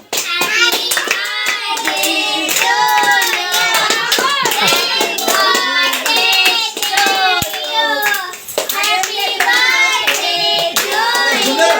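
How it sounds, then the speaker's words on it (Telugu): Hands clapping loudly and steadily as a group claps along, with children's voices and singing mixed throughout, close and continuous. "అందరూ చప్పట్లు గట్టి కొట్టాలి"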